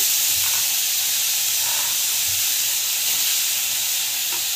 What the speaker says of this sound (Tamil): டமாட்டா, பச்சை மிளகா, கேரட்டு, நல்லா வந்து வதக்கிடுங்க